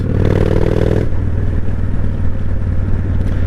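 A 1998 Honda Shadow 1100 cruiser motorcycle engine revving hard while riding, a loud, close throttle burst in the first second that then settles into a steady, rumbling drone with no talk over it.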